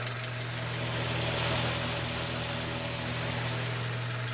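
A Honda Civic engine idles steadily while warming up to operating temperature, a constant low hum with slight vibration, close and unbroken, with no voices.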